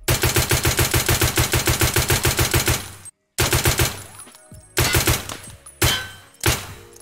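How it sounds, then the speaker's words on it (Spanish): A pistol in Escape From Tarkov, fitted with a laser, is fired rapidly from a kneeling stance without aiming. A steady rhythm of about twenty close, sharp shots runs for three seconds, then a pause, then a few single shots with ringing tails. "Vamos a disparar a esta zona de acá, arrodillados, así, disparando rápido, sin apuntar."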